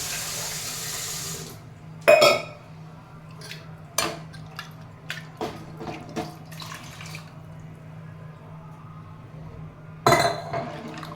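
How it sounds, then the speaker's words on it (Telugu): Water runs from a tap in a kitchen sink while a pressure cooker and dal are washed, with sharp metallic clinks and knocks of the pot scattered through the flow. "కుక్కర్ని కూడా శుభ్రంగా కడిగి పప్పుని కడిగి నీళ్ళు పోద్దాము దాంట్లో"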